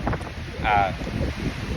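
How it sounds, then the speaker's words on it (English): Gusty wind roars into the microphone in low rumbling buffets, with a brief faint whine rising over it midway. "super windy now"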